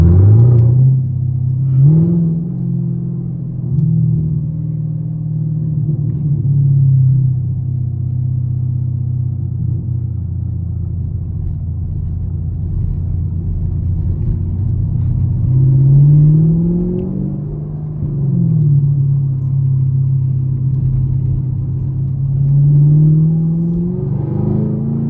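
A straight-piped Chevrolet Camaro SS rumbles loud and deep in afternoon traffic. The heavy idle-like drone swells with brief revs and eases off again throughout, with no talking.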